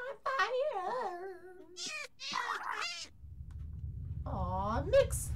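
A Minecraft cat meows while burning, short pitched mews mixed in with a person talking excitedly nearby, ending over a rumbling low noise.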